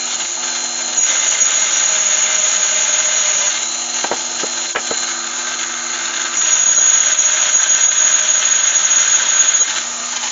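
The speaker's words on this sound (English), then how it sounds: "I've got a Proxon with a wrapping wheel on there" A Proxxon rotary tool with a sanding wheel grinds a turned wooden Father Christmas gonk ornament. It makes a loud, steady high-pitched whine that shifts with load, with a few brief taps midway.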